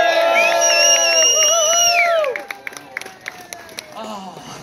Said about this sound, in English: Let's give him a final round of applause.